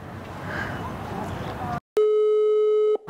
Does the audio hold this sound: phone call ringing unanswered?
yes